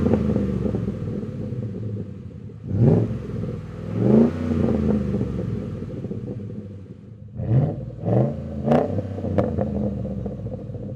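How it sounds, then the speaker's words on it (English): A Ford F-150 5.0L truck with a Roush cat-back exhaust idles with a deep burble, then revs sharply several times, the exhaust roaring up and settling back between blips. "the crowd favorite Roush catback exhaust system"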